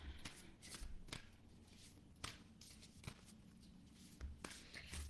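Tarot cards being shuffled up close, soft riffling and slapping bursts repeating in an uneven rhythm at low volume.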